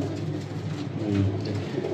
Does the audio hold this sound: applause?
no